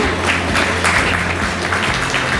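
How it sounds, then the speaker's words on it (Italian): Audience applause at a Miss Città Murata beauty pageant event, a steady dense clapping from a crowd, loud and continuous with no talk over it. "Facciamo un grande applauso ai nostri sponsor."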